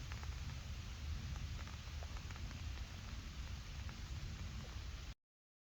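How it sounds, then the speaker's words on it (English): Steady rain hisses down close by, a dense even patter that continues for about five seconds and then cuts off abruptly. "Here comes the rain."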